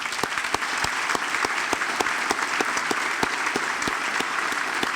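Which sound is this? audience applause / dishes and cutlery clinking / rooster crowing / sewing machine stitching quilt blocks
audience applause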